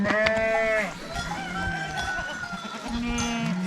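Sheep and their lambs stand on a snowy rooftop and bleat clearly, with several wavering, drawn-out cries close by and quieter rustling between them.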